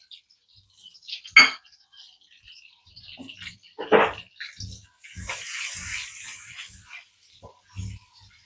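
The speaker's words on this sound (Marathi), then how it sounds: "हे आता परतवून घेणार" Whole spices for mutton bhuna masala are sautéed in a pan: cloves, black cardamom, black pepper, star anise, stone flower and shahjeera. Sparse clinks and taps are followed by a brief, soft hiss of frying, all quiet and close.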